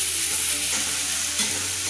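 Onions sauté in a pan for chicken gravy, giving a steady, close sizzle with a constant even hiss and no voices.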